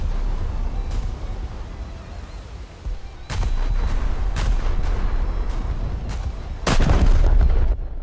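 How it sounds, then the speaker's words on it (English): Heavy battleship main guns and secondary batteries booming in a naval combat video game, with several loud blasts spaced irregularly over a low, rumbling battle din, the biggest near the end. "there's a battleship shooting at me and using secondaries"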